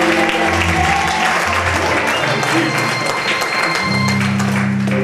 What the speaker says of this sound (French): Est-ce que vous acclamez le Seigneur?